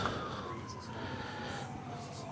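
A faint emergency vehicle siren wails in the distance, its tone sliding slowly downward beneath a steady outdoor background hum at a bowls club in Burleigh Heads, Australia.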